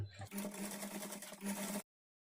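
A sewing machine runs in one steady, close whirring burst, stitching lehenga lining and main fabric together along a double fold, then stops abruptly.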